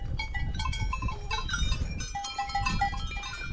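Goats bleat repeatedly on a high alpine mountain, near and far, with cowbell-like clinks and tonal calls over a steady outdoor background.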